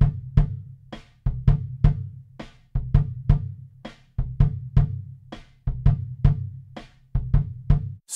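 Kick drum tuned in a Motown style, miked with a Shure SM7B placed far inside the shell, hit in a steady pattern of close, punchy thumps with sharp attack and short soft ring.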